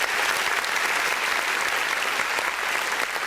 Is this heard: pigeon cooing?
no